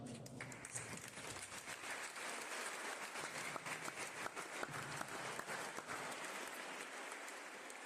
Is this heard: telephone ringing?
no